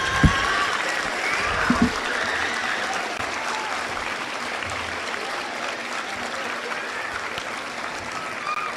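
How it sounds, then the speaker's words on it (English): An audience at a junior high school academic awards ceremony applauds steadily, a dense wash of many hands clapping from a distance with a few sharper close claps near the start, continuing at an even level for several seconds. "please give these people a round of applause"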